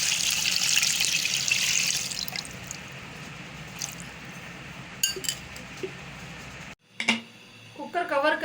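A jug of water pours into a cooking pot of mutton pulao, a bright splashing rush up close that tapers into scattered drips and metallic clinks, followed by a brief voice.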